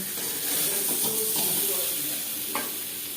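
Fresh oil sizzles in a karahi already used for frying potatoes for chicken curry, a continuous hiss with faint stirring clinks and one sharp clatter near the end.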